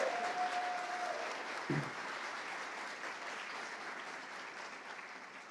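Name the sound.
audience applause for Adriana and Rodrigo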